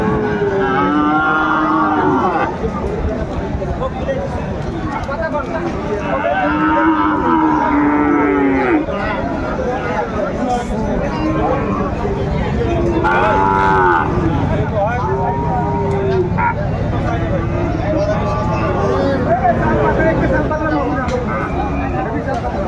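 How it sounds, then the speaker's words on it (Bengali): Cattle lowing repeatedly at a busy livestock market where a Sahiwal-breed bull calf and heifer are on sale, several moos rising over crowd chatter and talk, close and loud. "এখানে একটা সুন্দর আমরা বকনাও দেখতে পাচ্ছি।"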